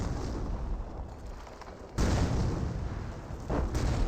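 Wurfrahmen rocket barrage in Company of Heroes, distant rumbling impacts followed by a sudden loud blast and a second burst of explosions over battlefield noise.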